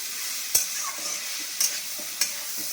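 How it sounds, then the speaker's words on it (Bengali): Kalmi shak greens frying in a pan make a steady soft sizzle, with a few sharp clicks of a utensil stirring against the pan. "এখানে আমার শাক ভাজাটা হচ্ছে।"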